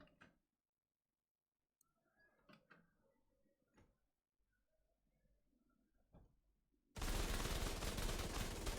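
An exotic Tommy Gun fires in a video game: a few sparse, quiet shots and mechanical clicks are followed by a sudden loud, dense burst of rapid gunfire.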